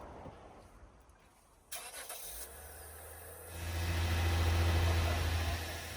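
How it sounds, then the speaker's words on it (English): A car engine cranks briefly and catches after a battery change, then settles into a loud, steady rumble that swells and holds. "Then we fire it up to see if we did a good job."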